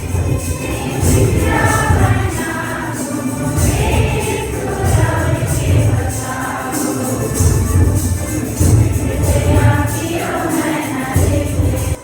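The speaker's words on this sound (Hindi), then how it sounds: "आज काफी भीड़ है।" A crowd murmurs through a Sunday church service, a dense, continuous wash of many voices, loud and close without any single speaker standing out.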